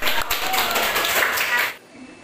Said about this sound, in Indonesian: kasih tepuk tangan buat kalian semua